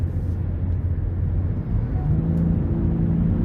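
A 2023 Nissan Rogue with a turbocharged 3-cylinder engine accelerates from inside the cabin, a low droning rumble with a rising engine tone partway through, steady and moderately loud with no talking.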